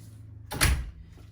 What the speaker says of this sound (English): so I'm going to close my door